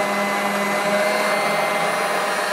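A Vileda VR 101 robotic vacuum cleaner runs with a steady, continuous motor whir and brush hiss, even and close, with no voices over it.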